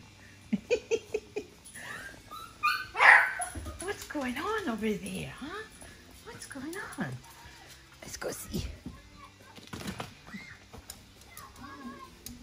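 Yorkshire Terrier going after a mouse indoors: a quick string of sharp yips and barks up close, then whimpers and excited yelps mixed with a voice and family chatter.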